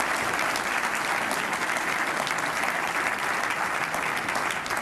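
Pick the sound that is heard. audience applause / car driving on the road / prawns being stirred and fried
audience applause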